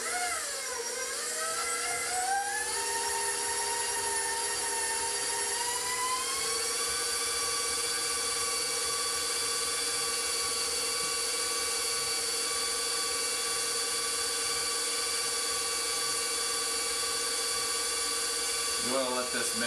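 An electric stand mixer beats sugar cookie dough with a loud, steady high whine that climbs in pitch as it speeds up, then holds constant and runs continuously close by.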